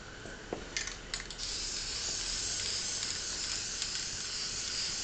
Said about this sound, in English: when you're spraying, you don't want to start out spraying on them because it will splutter sometimes with the cheap stuff